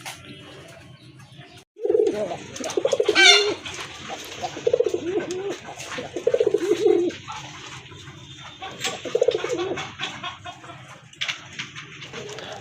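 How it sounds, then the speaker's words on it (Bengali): Several male pigeons kept for sale coo nearby in repeated throaty, rolling phrases with short breaks between them, fairly loud and up close, with no people talking. "এখানে 6 পিস কবুতর দেখতে পাচ্ছেন"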